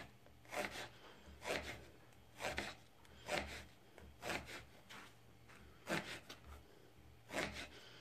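Knife slicing eggplant in half, seven or eight evenly spaced crisp cuts close by, each a short scraping stroke against a quiet background, with no talking.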